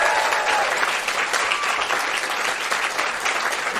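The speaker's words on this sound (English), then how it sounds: "can we have a big round of applause for the Comedy Lounge for hosting us here today?" Audience applause at a live comedy podcast show at the Comedy Lounge in Perth, a dense, loud, sustained wash of clapping from a full room, steady from start to finish.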